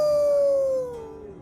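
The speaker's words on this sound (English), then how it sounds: "Howl!" A long, loud, single wavering howl from a hound in the Thronebreaker: The Witcher Tales video game, gliding slowly downward and fading into a quieter tail.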